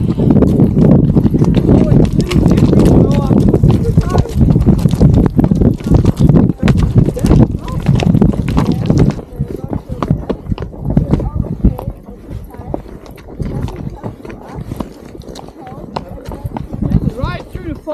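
Horses plod through deep mud on an Icelandic trail, a dense run of wet hoof thuds and squelches close by, with people talking over it throughout and the hoof noise easing somewhat halfway through.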